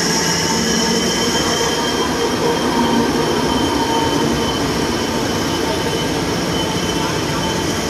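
Alstom diesel locomotive 4107 hauls express train 107 into Don Mueang station, heard as a loud, steady rolling roar of rail cars with squealing wheels and a constant rumble throughout.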